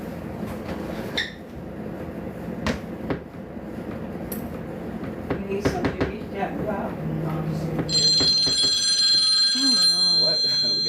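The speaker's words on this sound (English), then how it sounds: "We got all the notifications on" Bright ringing chime tones of phone notifications come in near the end, layered over ongoing talk and kitchen clatter while cod is prepared for the pan.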